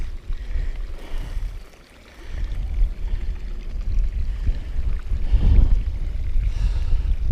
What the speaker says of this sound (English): The sound of running water under your feet.